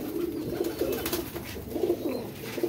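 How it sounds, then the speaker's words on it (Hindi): Baby pigeons coo in soft repeated low bursts nearby, a gentle burbling rhythm pausing and resuming, with no talk over it. "ये जिनके बच्चे हैं यही कबूतरों के जी बच्चे हैं माशाल्लाह"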